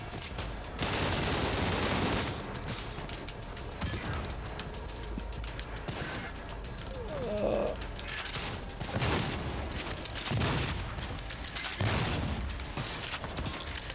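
Sustained bursts of gunfire from a range of guns in a horror first-person shooter demo, loud and dense with rapid fusillades and heavier booms throughout, no talk over it.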